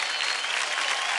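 Brief burst of loud, dense studio audience applause on a Hindi TV dance show, continuous clapping throughout.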